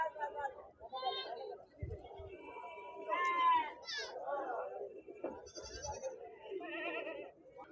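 Goats bleat at a busy Siddipet livestock market among goats and rams for sale, with a few clear bleats over steady, constant chatter from the nearby crowd.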